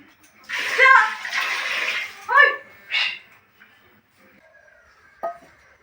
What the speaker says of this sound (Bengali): এই যে মা এখানে ঠাকুরের বাসন মেজে নিচ্ছে